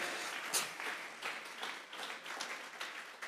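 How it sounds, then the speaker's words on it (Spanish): A congregation in church breaks into applause as an offering of praise, a steady, fairly quiet wash of many hands clapping with gentle swells and no voices standing out. "Vamos a regalarle ofrenda de palmas al Dios de la gloria."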